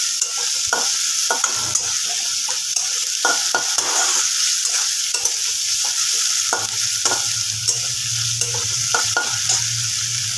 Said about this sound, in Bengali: পেঁয়াজটাকে আমি একটু লাল করে ভেজে নেব